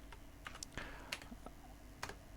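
Keystrokes on a computer keyboard, entering Lua code for a beginner programming lesson, with scattered clicks and short bursts at an irregular pace, fairly close and alone.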